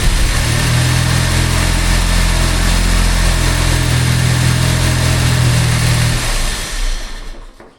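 A Jaguar XJ6 engine with an overly fast idle runs at a steady high speed, loud and close, with a constant hum that fades near the end.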